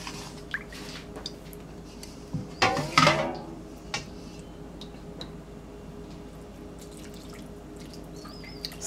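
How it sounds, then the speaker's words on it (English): Broth pours into a pan of old-fashioned chicken and dressing in one short, wet splashing burst of under a second, with faint drips and kitchen quiet around it. "I think I'm going to put just a little bit more broth in there."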